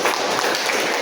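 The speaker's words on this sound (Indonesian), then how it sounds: "Kita beri tepuk tangan untuk kelompok 3." Classroom group applause for group 3 at the end of a discussion presentation: a dense, steady wash of many hands clapping, loud and continuous throughout.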